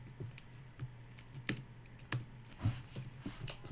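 Computer keyboard typing up close during programming work: irregular, quiet clicks and taps in short bursts with a few sharper keystrokes, no speech.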